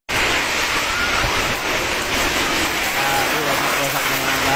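Strong typhoon wind roars continuously with the rushing wash of surf beneath it, loud and unbroken from start to finish.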